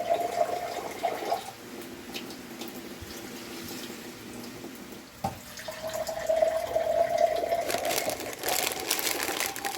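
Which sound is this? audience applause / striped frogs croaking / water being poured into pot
water being poured into pot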